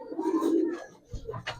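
A Giribaz pigeon gives a short, low, throaty coo at close range, followed by a brief scuffle of other noise.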